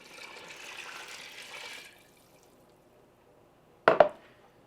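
Water poured from a container onto dry pinto beans in a pressure cooker, a short steady pouring rush for about two seconds, then quiet and a brief clatter near the end.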